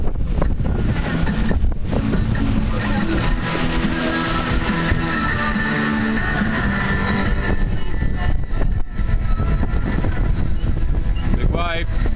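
Strong wind roars and buffets the microphone at sea, continuous and loud, with water rushing and splashing around a moving boat.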